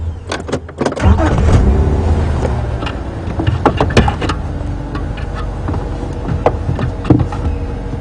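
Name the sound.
safari bush car driving off-road into the bush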